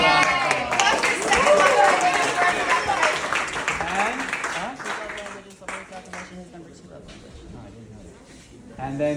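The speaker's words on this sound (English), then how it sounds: "So let's give him another round of applause." Audience applause breaks out at an event, a dense wash of clapping that fades gradually with voices mixed in, swelling again briefly at the end.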